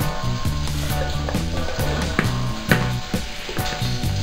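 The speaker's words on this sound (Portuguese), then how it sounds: "A cebola e o alho vai para a panela do bacon e linguiça." Onion and garlic sizzle in a pan of rendered bacon and sausage fat, a steady loud frying hiss with rhythmic stirring and scraping knocks throughout, no talking.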